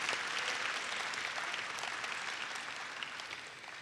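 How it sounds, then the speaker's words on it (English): Applause from an audience in a school gym at a lecture, steady broadband clapping held at even strength for the whole stretch and tapering slightly at the end, with no talking over it. "let's give them a round of applause"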